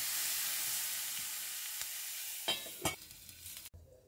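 Stuffed capsicum roasting in a pan with a splash of water, giving a hissing sizzle that slowly fades, then a few close utensil knocks and scrapes before it cuts off abruptly.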